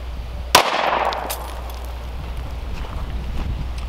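A single loud gunshot fired at a pair of handcuffs from close range outdoors, a sharp crack followed by a decaying rumble and steady wind noise.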